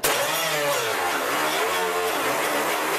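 Cutting wheel grinding on top of a spot weld in the trunk floor of a 1968 Pontiac GTO, a loud, steady, high-pitched whine that holds constant for the whole stretch with a faint wavering pitch.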